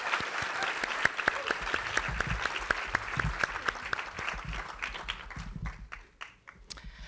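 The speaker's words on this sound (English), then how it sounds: "Can we get a round of applause for our finals this year?" Audience applause at a 2019 awards ceremony, a dense sustained round of clapping from a crowd that continues steadily before thinning and tapering off toward the end.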